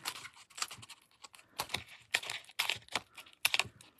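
Scissors snipping through card stock in a few bursts of crisp, close cuts, steady and fairly quiet, with no voices.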